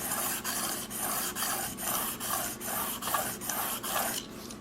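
A Grim Reaper Hades Pro knife blade scrapes across diamond sharpening plates in about nine even, rhythmic strokes, each a close, gritty rasp separated by brief pauses.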